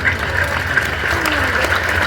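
Crowd clapping at a large Hindu devotional gathering at Bageshwar Dham, brief and steady, mixed with a droning musical or amplified tone and some background voices.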